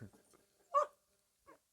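A dog at a village house gives a few faint, short whimpers and yips, with one clearer cry in the middle and long quiet gaps between them.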